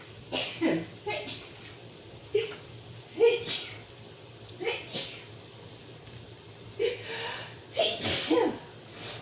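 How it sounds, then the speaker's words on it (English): Several short, sharp sneezes from someone under the weather burst out one after another at close range, separated by brief pauses, with faint room noise between them. "I was hoping to do this without, you know, sneezing, but that didn't happen."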